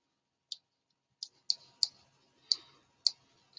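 Sharp, isolated mouse clicks while working in TinkerCad, seven crisp taps spaced irregularly over a few seconds, close and alone against silence.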